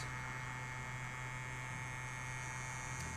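A vacuum pump drawing air bubbles out of a freshly built RC buggy shock, a steady even electric buzz with a constant hum, faint and unchanging throughout.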